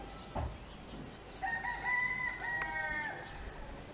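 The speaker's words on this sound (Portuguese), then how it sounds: "Os galos estão bem eufóricos, estão a cantar bem." Roosters crow in a rural village setting, one long clear crow rising and holding at moderate distance over quiet background, with a brief thump before it.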